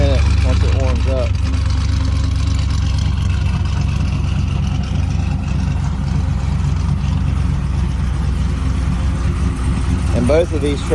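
A brand-new pickup truck with the ZR71 package and about 250 miles on it idles while warming up, giving a steady, loud low rumble throughout. Brief speech is heard near the start and end.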